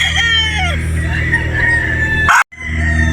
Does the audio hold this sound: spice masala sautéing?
no